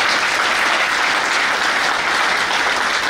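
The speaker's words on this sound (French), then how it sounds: "Nous devons applaudir ces garçons." A large crowd applauding a Guinean football team, a steady, dense wash of clapping that stays loud and even throughout with no voices on top.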